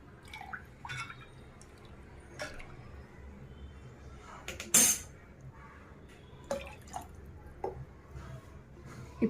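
Water goes into a vessel of mashed tomato for rasam in scattered splashes and drips, quiet and close, with soft squishes and clinks between the pours.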